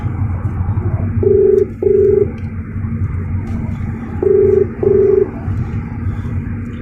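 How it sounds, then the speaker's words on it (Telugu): Mobile phone keypad tones while placing a call, four short beeps in two pairs over a low rumbling background, close and clear with no talk. "నెంబర్ చెప్తాను, కాల్ చేయండి జావేద్ గారు"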